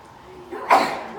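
A single sharp sneeze bursts out after a brief intake of breath, close and fairly loud.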